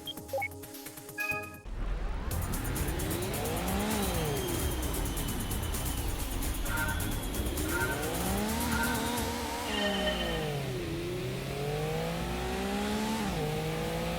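A sports car in the PlayStation racing game Gran Turismo revs through rising and falling engine tones as it accelerates and shifts gears, loud and continuous with a brief tyre squeal, and no one talking over it.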